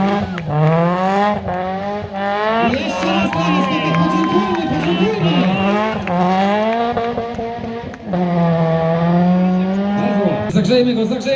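A rally car slides through a corner at a Polish rally prologue (Rajd Wikinga 2023) with the handbrake held, its engine note rising and falling loudly and tires squealing, as a cheering crowd and excited voices carry on over it.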